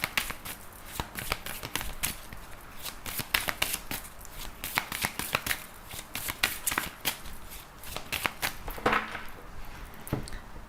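Fairy tarot cards being shuffled by hand, a close, rapid series of crisp riffling flicks and slaps in uneven bursts throughout, with no talking.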